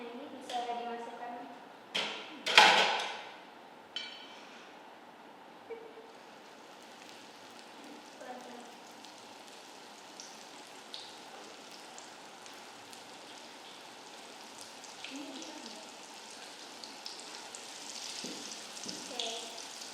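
Chocolate-filled spring rolls fry in hot oil, opening with a few loud clattering splashes, then settling into a steady, soft sizzle with occasional pops.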